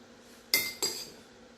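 A spoon taps against a plate twice in quick succession while sauce is dressed across it a little at a time, two short, bright clinks in an otherwise quiet room.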